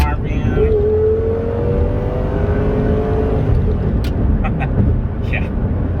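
A Lamborghini engine held at high revs, around 6,000 RPM in a low gear, droning loud and steady with a rising whine throughout.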